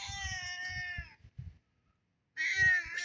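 A pet cat meows close by in two drawn-out calls, separated by a short quiet pause, with faint handling sounds between them.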